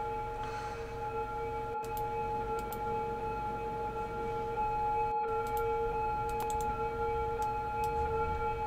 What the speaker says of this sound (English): Siren noise is obnoxious.